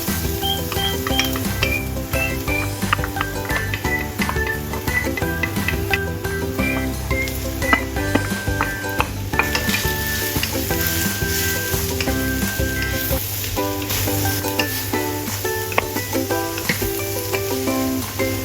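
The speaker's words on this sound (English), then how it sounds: "Time to stir-fry the ingredients until they're aromatic and golden." Vegan stir-fry ingredients sizzle steadily in a hot pan, a close, continuous frying hiss with occasional clinks and scrapes of stirring throughout and no talk.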